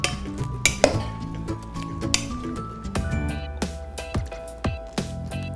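Food tossed in a bowl while cooking brunch, with repeated clinks and scrapes of a utensil against the dish and soft squishy stirring, irregular and close.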